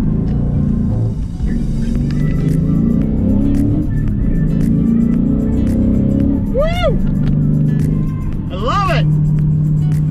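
A Dodge Challenger Scat Pack with a Hurst pistol-grip shifter rumbles steadily, then revs up sharply twice as it runs through gears, with voices talking over the engine.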